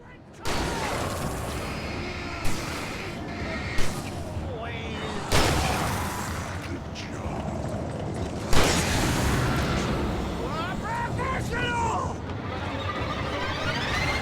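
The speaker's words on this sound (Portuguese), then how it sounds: "Só tem 2 tiros a escopeta." In the game Alan Wake Remastered, a shotgun fires about four booming blasts spread over several seconds, punching through constant game noise while a player talks.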